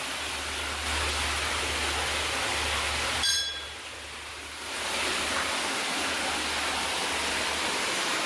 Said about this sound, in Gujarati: આ ગૌમુખમાંથી પાણી નીચે આવે છે